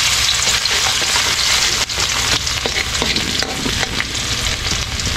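Garlic dropped into hot oil in a pan for a sauce, sizzling and frying steadily while a utensil stirs it, with scattered scraping clicks over a constant crackling hiss up close.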